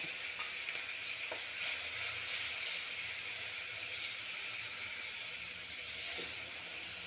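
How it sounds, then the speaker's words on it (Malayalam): Ground tomato is poured into a hot masala pan for pepper chicken, and a steady, hissing sizzle fills the whole stretch, constant and fairly quiet with no voices over it. "ഒരു തക്കാളി അരച്ച് വെച്ചിരിക്കുന്നത് അതിലേക്ക് ഒഴിച്ചു കൊടുക്കാം"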